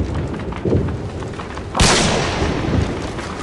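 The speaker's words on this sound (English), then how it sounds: "Toss the stun grenade." A stun grenade detonates in Modern Warfare 2 Team Deathmatch, a single loud, sharp bang midway followed by a ringing hiss that fades slowly over busy game ambience.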